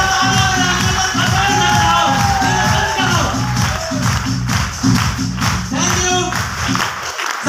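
An audience breaks into sustained applause and cheering at a business speech event, loud and close, with rhythmic clapping and whoops, and some voices mixed in throughout.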